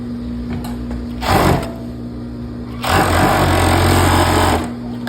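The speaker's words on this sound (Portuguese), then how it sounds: "Aqui, passa overlock aqui." An overlock serger stitches seams on a pair of jeans in two loud bursts: a short run near the start, then a longer steady run of several seconds, with a constant motor hum between them.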